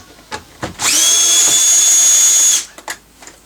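A power tool spins off 7mm bolts from a 2017 Volvo S60 door panel: one loud, steady high-pitched whine lasting under two seconds, framed by soft clicks and handling taps.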